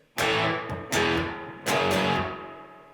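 Distorted electric guitar hits a power chord riff: three loud, tight crunchy chord stabs, each ringing out briefly before the next, close and alone.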